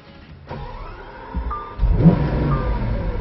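A 2012 Lamborghini Aventador LP700-4 on the Roebling Road Raceway track starts quiet, then its V12 engine swells into a rising rev and pulls away hard, loud and close, with no talking.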